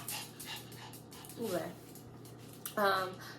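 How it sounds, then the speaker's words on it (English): A dog and a cat scuffle indoors, giving a couple of short whines and yips amid shuffling noise, faint and partly masked under steady room hum. "my dog and my cat is just like all over the place, fighting one another"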